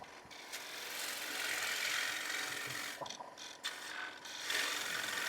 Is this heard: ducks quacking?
no